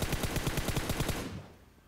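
Rapid automatic fire from an M4 rifle in the PUBG video game, a loud close stream of evenly spaced shots for over a second, followed by a fading echo tail.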